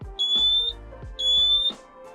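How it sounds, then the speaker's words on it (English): A small smoke alarm in a converted Ford Transit camper van sounds two loud, shrill beeps about a second apart, close and alone. "That's our fire alarm."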